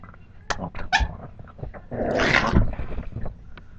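A puppy growls and snarls in rough bursts while play-fighting, close and fairly loud, with short yips and a longer throaty growl.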